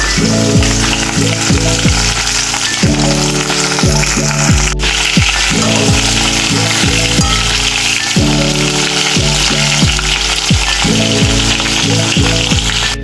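Small chuno fish, morla, frying in hot oil at a farm house kitchen, a loud continuous sizzle and crackle running without pause, overlaid by a repeating mechanical clicking rhythm.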